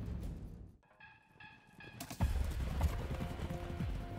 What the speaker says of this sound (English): Now there are the Mustangs, or wild horses, the symbol of the American Wild West